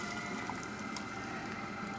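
Espagnole brown sauce, about half a quart, pouring steadily into a pan of reduced red wine, a continuous liquid rush heard close up with no talking.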